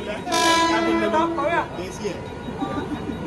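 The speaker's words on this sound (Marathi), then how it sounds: "अशा प्रकारे आमची वातानुकूलित AC ट्रेन आलेली आहे" An arriving air-conditioned train's horn blares loudly for about a second, then rail noise rumbles on as voices chatter nearby.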